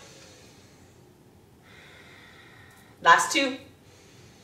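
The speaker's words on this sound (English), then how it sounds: "Let's take 3 strong breaths." A strong, forceful yoga breath during a chair yoga core flow: one sharp, loud exhale bursts out near the end after quiet spoken cueing.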